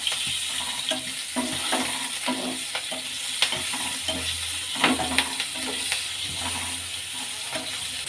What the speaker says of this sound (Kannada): ಹಿಂಗೆ ಹಾಕ್ಕೊಂಡ್ಮೇಲೆ ಹಸಿಮೆಣ್ಸಿನ್ಕಾಯಿ ಸೇರಿಸ್ಕೊಳ್ಳೋಣ. ಎಣ್ಣೆ ಫ್ರೈ ಆಗಲಿ.